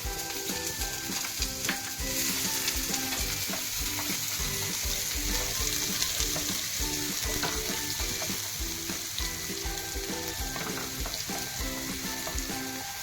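Onions drop into about three ladles of hot oil for anda bhurji and fry with a steady, dense sizzle and crackle, continuous and close, with occasional stirring scrapes.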